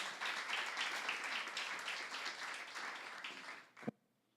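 A church congregation applauds during a sermon, a dense sustained round of clapping that fades out near the end, followed by a brief thump and then near silence.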